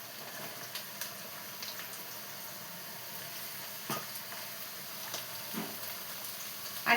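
Pieces of ridge gourd hiss and sizzle in a hot pan of oil for a curry, a soft steady frying crackle with a few scattered stirring clinks and bumps, fairly quiet and with no talk.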